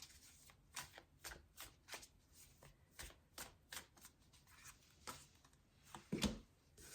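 Tarot cards being shuffled by hand, a run of crisp riffling bursts and soft slaps at a steady uneven rhythm, close and fairly quiet, with a sharper louder flurry near the end and no voices.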